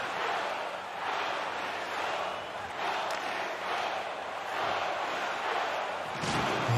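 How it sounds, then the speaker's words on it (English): Hockey crowd roaring steadily at an arena, a dense, sustained wash of cheering that swells and dips in waves over the full stretch. "And you hear the crowd."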